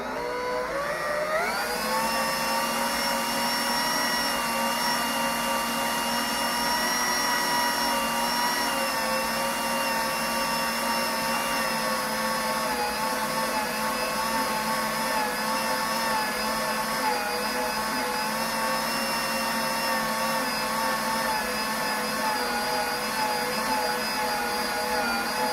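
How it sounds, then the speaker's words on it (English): A stand mixer kneads Italian bread dough with a steady, close motor whine and hum that holds evenly throughout, rising slightly at the start. "now I'm going to knead it in the mixer"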